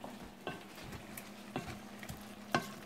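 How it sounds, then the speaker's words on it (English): A spoon stirs a sausage dinner in a sizzling pot, with a few soft scraping strokes about once a second over a quiet, continuous frying hiss. "I'm now going to put this into the pot. Mix it all together."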